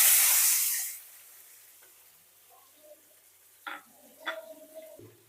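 Water poured into hot oil with fried dry red chillies and five-spice seeds bursts into a loud, close sizzling hiss that dies away within a second, followed by quiet pan clinks and stirring.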